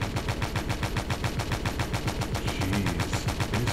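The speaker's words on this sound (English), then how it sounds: "They just keep shooting." Rapid, evenly spaced automatic gunfire from enemy ships in the naval game Stormworks, a steady mid-distance rattle of repeated shots continuing without pause.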